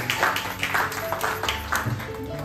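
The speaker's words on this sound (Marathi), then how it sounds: "अँड एक जोरात टाळ्या होऊन जाऊ त्या दोघांसाठी" A small group claps for a couple at a family wedding anniversary celebration, a run of quick, close claps in an uneven patter, with speech over the clapping.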